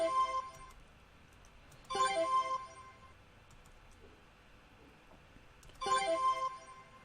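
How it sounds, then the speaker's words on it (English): Short edited effect with a bright ringing bell-like tone, a burst near the start and another at the end, over a faint sustained tonal bed. "there is another something like a ringing bell kind of effect towards the end"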